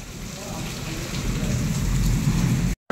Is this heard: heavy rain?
yes